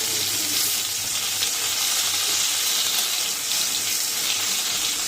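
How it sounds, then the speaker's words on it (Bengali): Eggplant fries in hot oil tempered with nigella seeds and green chili, a loud, close, unbroken hiss of sizzling that stays steady throughout with no voices. "এটা কালো জিরে কাঁচা লঙ্কা ফোড়ন দিয়ে, এই যে বেগুনটা ভাজা ভাজা হয়ে গেছে, এবার এটা তুলে নেব।"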